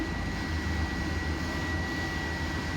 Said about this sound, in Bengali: মোটর চলছে